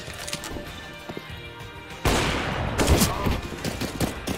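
Gunfire in the video game CS:GO, starting with scattered shots and then becoming a sudden loud sustained burst of rapid fire halfway through, close and dense, with faint voices underneath.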